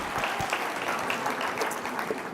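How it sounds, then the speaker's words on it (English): Audience applause at a tech startup pitch competition finale, a dense steady wash of many hands clapping at full strength throughout. "Round of applause for Ashton Clark from Falcon."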